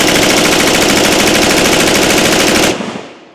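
Sustained, rapid automatic gunfire from an LWRC IC-A5 rifle, slowing as the barrel overheats, roars loud and close for nearly three seconds, then stops abruptly, leaving a short fading echo.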